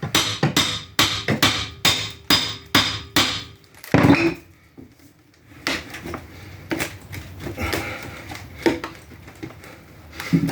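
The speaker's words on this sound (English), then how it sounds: "Let's see what a hammer does." Hammer blows used to pry up a wooden board: a rapid series of sharp, evenly spaced strikes, then a heavier crack and scattered knocks and scrapes of wood shifting, close and loud.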